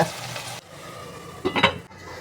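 Chopped onion sautéing in a pan for Karnataka-style upma (uppit): a steady close sizzle, then a short burst of scraping and stirring against the pan near the end, with no talk.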